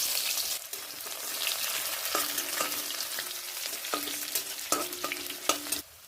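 Onion with cumin frying in hot oil in a pan, a steady close sizzle broken by repeated scraping strokes of a stirring spoon, no voices.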